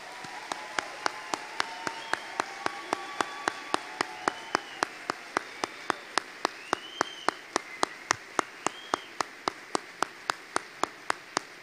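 Applause at a military police symphonic band concert, heard as a sparse, regular run of single claps, fairly faint and evenly spaced over a quiet hall background.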